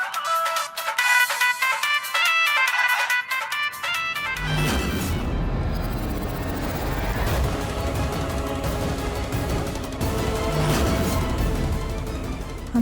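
A loud electronic phone ringtone plays a repeating melody, then heavy music with booming percussion swells in and continues at full volume.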